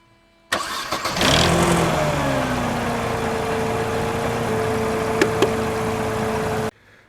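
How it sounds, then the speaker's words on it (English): Mercedes W203 C-Class engine, fitted with new spark plugs, cranks and catches, revs up briefly, then settles into a steady close idle for several seconds before cutting off abruptly. "Now I'm going to go ahead and start the engine."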